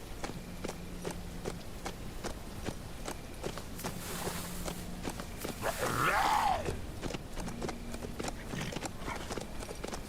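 Horse hooves pounding at a run in the survival game HumanitZ, a steady repeated clip-clop of a ridden horse that swells louder for a moment midway, with no talk over it.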